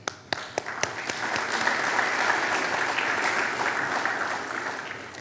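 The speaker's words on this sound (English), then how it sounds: "applause to you for very," An audience applauds after an interpretive dance performance at a ribbon-cutting ceremony, a few sharp opening claps quickly swelling into steady, sustained clapping that holds then slowly eases.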